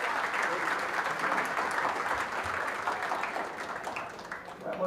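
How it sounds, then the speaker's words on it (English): Steady applause from a crowd at a junior fair goat show in Belmont County, a dense, even patter of many hands clapping for about five seconds, with faint voices mixed in. "let's start off giving a round of applause"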